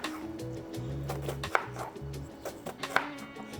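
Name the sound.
knife slicing an onion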